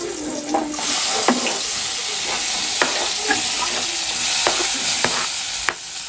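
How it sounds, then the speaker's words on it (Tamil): Chopped onion, tomato, ginger and garlic sizzle steadily in hot oil, a continuous close hiss broken by a few sharp spatters and faint scraping stirs. "கட் பண்ணி வச்சிருக்க வெங்காயம், தக்காளி, இஞ்சி, பூண்டு எல்லாத்தையும் போட்டுக்கோங்க ஒரு எண்ணெயில."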